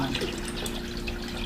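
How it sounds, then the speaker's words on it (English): Spring water pours into a kettle in a kitchen, a short, steady splashing and trickling stream heard close and continuous. "Now you take this water and add it to this kettle"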